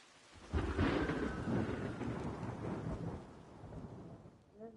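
Rain and rolling thunder in a dark fantasy video game cutscene: a broad, heavy rumble swells and then fades over steady rain hiss, with no voices.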